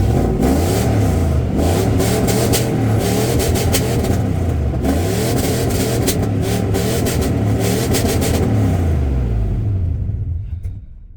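An old Ford F-150 truck engine runs and revs loudly and steadily with rising and falling rumble, close by, fading at the end; no distinct starter cranking stands out.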